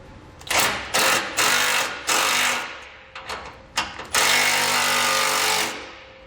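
A power tool, probably an impact or drill, runs in several short bursts and then one longer run while re-securing a ground bolt during a Curt trailer hitch install on a 2019 Ford F-150.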